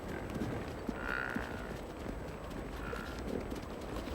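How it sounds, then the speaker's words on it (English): Domesticated yaks move about in the mountains of Kyrgyzstan, with soft hoof steps and faint low calls from the herd over a steady outdoor background. "The yak is a kind of high-altitude cow."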